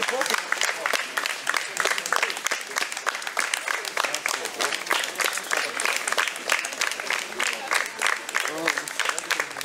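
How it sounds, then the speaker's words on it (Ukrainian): Loud, enthusiastic applause and clapping from an audience greeting soldiers at a theatre performance, dense and continuous with some crowd voices mixed in throughout. "Зустріли військовослужбовців бурхливими оплесками"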